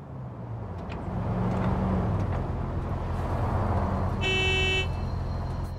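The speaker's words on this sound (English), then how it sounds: "Love when cars have horns." A car horn in the video game Cyberpunk on PS5 gives one short, loud, bright honk over steady engine and road rumble.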